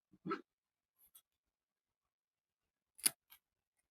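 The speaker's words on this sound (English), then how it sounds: "So you cut it very close to the stitch, but please don't cut through the stitch." Scissors make a few quiet, close snips as they notch the fabric seam allowance of a blouse, separated by near silence.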